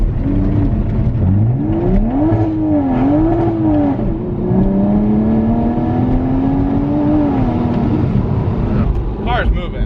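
A pure turbo Toyota MKV Supra with methanol injection pulls hard, its engine note climbing in rising sweeps through several gears, loud and close inside the car with a sharp burst near the end.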